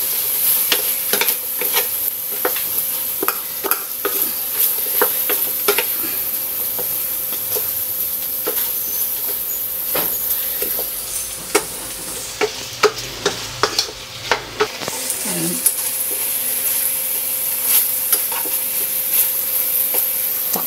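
Chicken simmering in tomato sauce with oyster sauce in a pan is stirred, a steady close sizzle and hiss broken by repeated sharp scrapes and clicks of the spoon against the pan, with no voices.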